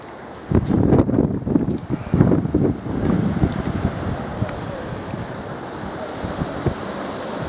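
Ocean waves crash on the beach at Cape Coast, Ghana, with loud bursts of surf early on settling into a steady wash, heavy wind buffeting the microphone throughout.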